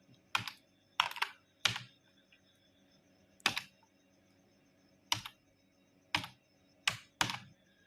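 Individual keystrokes on a computer keyboard while a captcha is entered for an IRCTC train ticket booking: about nine sharp, close clicks at an uneven pace with quiet gaps between them and no talking.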